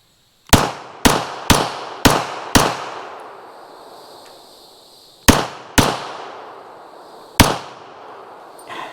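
Gunshots from a WWII Canadian Inglis High Power pistol: five sharp, loud shots in quick steady succession, a pause, then two more close together and a final single shot, each with a brief echoing decay.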